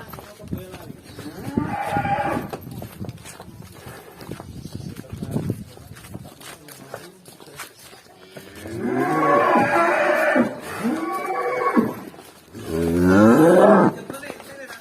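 Cattle moo several times, long low bellowing calls with short gaps, fairly close, over quieter background noise and some voices.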